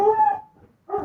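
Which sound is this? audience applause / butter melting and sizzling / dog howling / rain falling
dog howling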